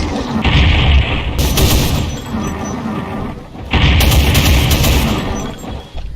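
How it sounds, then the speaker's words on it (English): Dark rockets fired in quick succession by a Hell Knight variant in a modded Doom game, two loud booming blasts with roaring broadband bursts, each followed by a rumbling tail, no talk. "It can also fire at least a couple of dark rockets in a row, which seem to do more damage than regular rockets."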